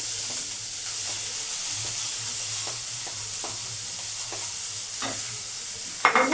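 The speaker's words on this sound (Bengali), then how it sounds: "ফুলগুলো দিয়ে একটু নাড়তে হবে ভাজা ভাজা করে নিয়ে" Drumstick flowers are stirred and fried in a pan, giving a steady sizzle with regular scraping strokes of the spoon and a louder clatter at the end.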